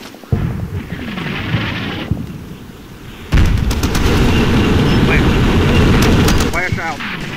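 Artillery fire mission in the tactical war game Combat Mission: Shock Force: loud booming blasts and rumbling explosions that hold as a sustained roar after a sharp onset, with crackling debris and radio-style chatter mixed in.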